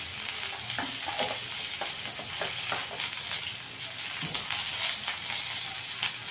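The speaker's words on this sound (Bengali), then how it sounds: "এবার কুদলিটাকে দিয়ে দেবো, সব একসঙ্গে একটু ভালো করে ভেজে নেবো।" Kudli fries in a pan with salt, giving a continuous loud sizzle with intermittent scraping and stirring sounds throughout.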